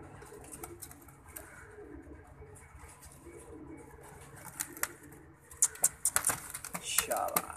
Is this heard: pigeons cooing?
yes